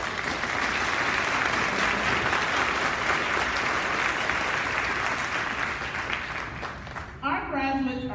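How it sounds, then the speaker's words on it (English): Steady, dense applause fills a graduation ceremony for the MNPS Virtual School Class of 2022 as graduating students are honored. The clapping continues strongly for about seven seconds, then eases as a voice starts speaking near the end. "Please give these special students a round of applause"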